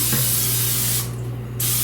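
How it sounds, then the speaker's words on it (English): Canola oil non-stick cooking spray hisses from an aerosol can into a slow cooker in one steady close burst lasting about a second, stopping abruptly, over a constant low kitchen hum. "So let me just reach up and spray this baby."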